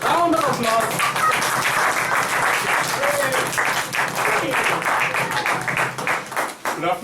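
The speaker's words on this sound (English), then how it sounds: "Please give a round of applause." A Toastmasters club audience gives a round of applause at a chapter meeting, steady dense clapping that carries on loudly for several seconds, with a voice briefly speaking over it.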